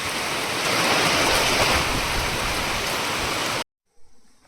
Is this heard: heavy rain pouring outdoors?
yes